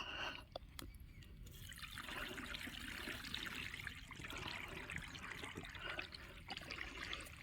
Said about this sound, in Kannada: ಸೊ ನೋಡಿ ಇಲ್ಲೆಲ್ಲ ನೀರು ಆಲ್ರೆಡಿ ಬರ್ತಾ ಇದೆ